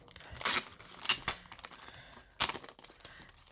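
Crinkling and tearing of craft kit packaging being opened, in a few sharp bursts with quieter rustling between, fairly close and with no talking.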